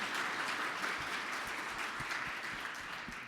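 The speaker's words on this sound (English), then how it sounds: "You can all clap." Audience applause after a talk at a road safety educational session, a soft, fairly distant patter of clapping that slowly fades over a few seconds.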